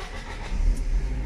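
A car engine turns over and catches, with a low rumble that swells and settles into a steady idle, heard close up.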